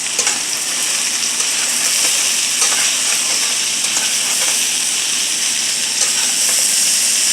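Stuffing mixture with a little garlic cooking in a pan for stuffed cabbage leaves, a loud continuous hiss and sizzle with no break, plus a few faint clicks from stirring.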